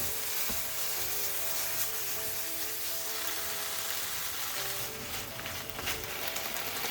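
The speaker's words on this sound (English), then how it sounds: "add the soda marinated pork to the same pan" Soda-marinated pork being stir-fried in a pan, giving a loud continuous sizzle with a bright hiss close by and no voices.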